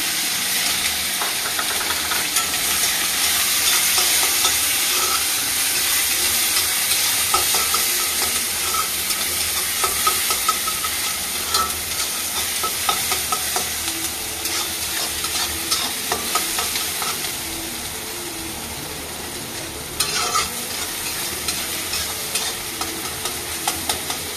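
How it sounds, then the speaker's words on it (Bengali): Chopped onion and tomato dropped into hot oil with tempering spices, a loud continuous sizzle with busy stirring and scraping that gradually softens, punctuated by occasional clatters. "আগে ফোড়ন দিয়ে দেবো, তেল গরম হয়ে গেছে। পেঁয়াজ কুচি, টমেটো কুচি দিয়ে দিলাম।"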